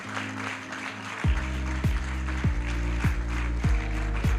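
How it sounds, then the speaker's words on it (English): Clapping and cheering fill the room at an airline training college graduation ceremony over a pulsing music beat with regular deep thumps. "Everybody, a better round of applause"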